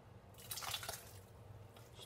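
Homemade hot sauce or salsa being poured from a container into a bowl, a soft wet trickling and dripping with a brief thicker splash in the middle, close and fairly quiet.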